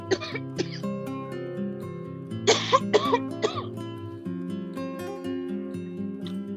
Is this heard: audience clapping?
no